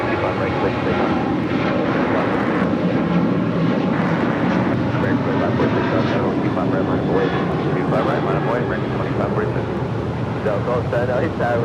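An American Airlines Boeing 737-800 jet takes off at LAX bound for Chicago O'Hare, a loud, steady broadband engine roar that stays constant throughout, with a voice talking over it.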